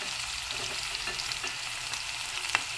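Onions fry in a pan for a prawn and brinjal curry, a steady, even hiss of frying with soft stirring movements and one small knock near the end, no voices.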